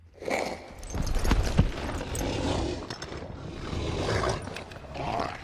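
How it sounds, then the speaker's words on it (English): Heavy hooves clop along with deep, rumbling breaths and snorting from a horse, loud and close, in a dense, dramatic mix. "with the breathing of the horse and the hooves"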